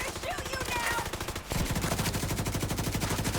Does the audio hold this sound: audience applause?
no